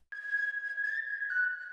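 A clean, sustained whistle hook from a remix, one steady high tone lasting under two seconds with a slight pitch dip near the end, processed with a simple filter and a little reverb, heard alone.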